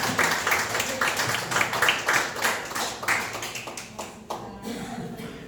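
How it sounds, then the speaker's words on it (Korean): Audience applause at a book concert: steady, fairly close hand clapping from a seated crowd that swells and ebbs over several seconds, then thins into scattered claps at the end. "큰 박수 부탁드릴게요"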